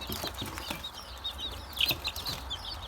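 Chicks and chickens, including Amrox and Bielefelder breeds and a young Bielefelder rooster, cheeping and clucking softly in a steady chatter, with a few brief louder peeps, close but quiet.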